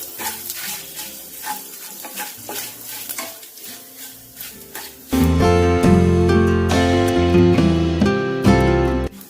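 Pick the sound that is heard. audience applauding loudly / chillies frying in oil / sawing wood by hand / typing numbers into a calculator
chillies frying in oil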